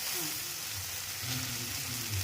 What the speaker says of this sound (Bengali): আগে ভাজা হয়ে যাক